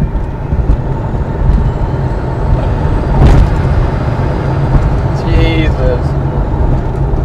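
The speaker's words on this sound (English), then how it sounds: "I'll demonstrate the brakes on it now. This is in sport mode from the standing start." A Porsche 911 with a big red brake conversion, in sport mode, launches hard from a standstill. Its loud, steady engine roar and road rumble run throughout and swell briefly midway, heard from inside the car with occasional voices.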